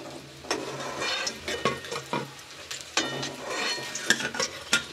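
Vegetable chops frying in oil, a soft steady sizzle broken by repeated clinks and scrapes of a utensil in the pan, close and moderately quiet, no talking.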